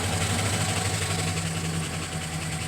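A 2005 Chevrolet Silverado engine idles steadily just after an oil pressure sensor replacement, a low even hum with a constant drone, heard up close and alone with no voices.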